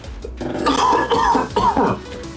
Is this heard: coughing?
yes